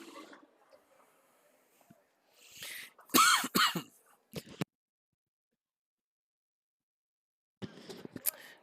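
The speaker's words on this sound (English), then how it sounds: "Didn't mean to cough in your ears." A few harsh coughs and throat clearing near the microphone at a high school playoff football broadcast, loud against near silence, then quiet before faint sounds return.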